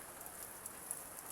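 Steady, fairly faint rain falls near a tree house, an even patter with no voices.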